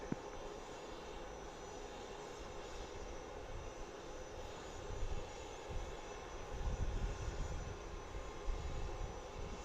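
A fixed-wing aircraft on approach to runway 31 at Harrisburg International Airport makes a faint, distant engine drone that swells slightly toward the end, alone without voices.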